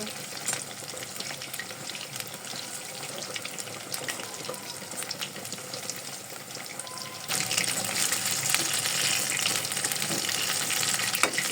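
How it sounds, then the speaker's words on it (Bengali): Food shallow-fries in hot oil until reddish, a steady close sizzle that jumps noticeably louder partway through as the frying intensifies, with no voices. "একটু লাল লাল করে ভেজে নিব"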